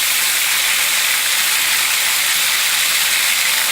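Garlic added to hot oil in a pan while cooking chicken piccata, a loud, steady, close sizzle with a broad hiss that holds evenly throughout.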